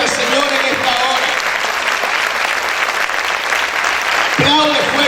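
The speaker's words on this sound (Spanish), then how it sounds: "Vamos a aplaudir fuerte al Señor en esta hora." Church congregation applauding loudly, dense continuous clapping close and full, with a voice speaking briefly at the start and end.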